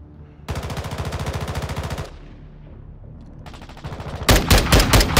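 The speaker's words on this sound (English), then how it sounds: "Making effective fire." Automatic weapon fire in Warzone 2: a long rapid burst, a pause, then another sustained burst and heavy loud rattling shots near the end, close and punchy with no talk over it.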